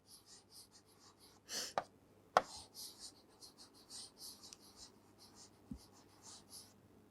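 Soft rhythmic pen strokes scratch on paper, faint and close, in a series of short scribbling bursts punctuated by a few sharp taps, with no speech.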